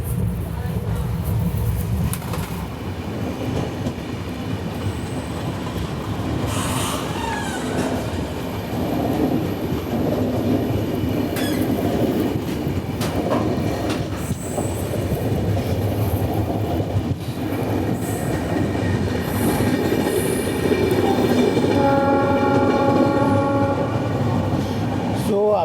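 Capital Express passenger train rolling slowly through Buxa forest under a speed restriction, with steady rail rumble and clatter throughout, occasional squeals and horn-like tones, and a voice speaking over the din.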